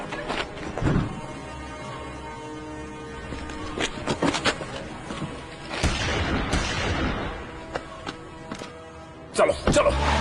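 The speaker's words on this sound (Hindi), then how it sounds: "अब मेरी गन का कमाल देख।" Gunshots and booms from an action movie dubbed in Hindi, a few sharp bursts scattered among loud dialogue and background clatter.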